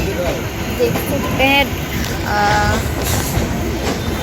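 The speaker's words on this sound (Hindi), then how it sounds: "देख सकते हैं ट्रेन चलना शुरू हो गया।" A passenger train rolls along the rails, heard from inside as a steady rumble with occasional squealing wheel tones, while a person talks over it.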